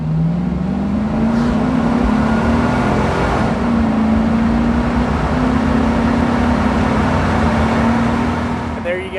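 A 2003 Cadillac Escalade with the 6.0 engine and all-wheel drive is heard from inside as it is driven. It gives a loud, steady cabin drone with road and engine hum.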